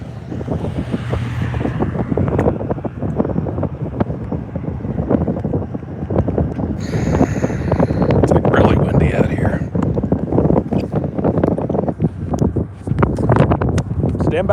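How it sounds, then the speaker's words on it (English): Strong wind buffets the microphone outdoors in constant rumbling gusts, with a person talking and exclaiming over the roar. "It's kind of windy out here."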